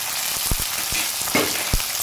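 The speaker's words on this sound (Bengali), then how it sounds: "দেখুন সর্ষেটা ফুটতে শুরু করেছে, এর মধ্যে আমি দিয়ে দিচ্ছি মটরশুঁটি আর দিয়ে দিচ্ছি একটু নুন" Mustard seeds crackle in hot oil as green peas and salt are added, a handful of sharp pops over a soft, continuous frying hiss.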